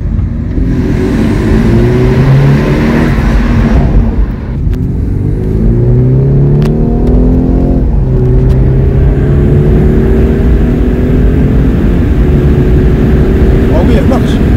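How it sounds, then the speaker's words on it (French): A car engine revs hard and climbs in pitch, with a turbo whine and the hiss of a blow-off valve between revs, loud and close while voices can be heard. "Oh, ce petit bruit de turbo."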